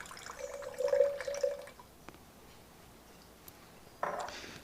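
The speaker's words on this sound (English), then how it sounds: "I'm going to pour 200 grams of water" Water trickles into a jar for feeding a sourdough starter, a light, steady pouring with a rising tone for under two seconds, followed by quiet and a brief clink near the end.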